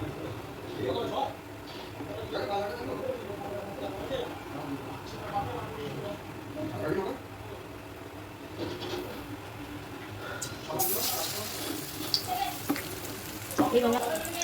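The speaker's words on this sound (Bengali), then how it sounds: "এইভাবে আমি বেসন লাগিয়ে তেলের মধ্যে ভেজে নেবো এক এক করে" Besan-battered teasel gourd fritters stuffed with filling fry in hot oil, a steady soft crackle and sizzle running throughout with brief louder bursts, heard close up with faint background noise.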